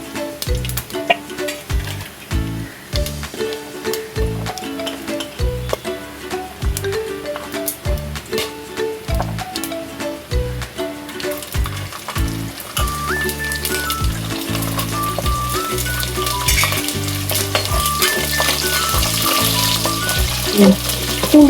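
Garlic sautéing in ghee in a pan for a chicken gravy crackles under a rhythmic tonal beat of background music, the sizzle growing denser and louder toward the end.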